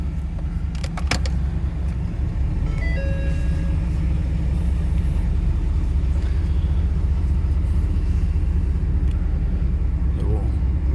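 A 2016 Ford F-350 Super Duty Lariat with a 6.7L diesel settles into a steady, loud, low-pitched idle just after start-up, heard from outside, with brief clatter early on and a voice speaking near the start.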